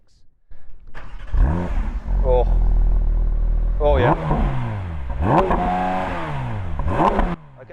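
A naturally aspirated flat-six car engine is revved repeatedly, rising and falling in pitch through several sharp blips near the rev limiter, loud and close, with people talking over it.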